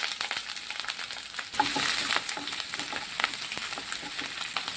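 Whole spices, ginger, garlic and three green chillies fry in hot oil, giving a constant close sizzle with occasional crackles and stirring scrapes.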